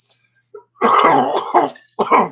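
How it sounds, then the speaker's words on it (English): A few harsh coughs and throat-clearing bursts up close, in two clusters separated by a short pause. "Commence coughing."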